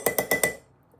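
Four quick, evenly spaced clinks of a metal knife against a glass jar of sourdough starter, close and bright, then quiet.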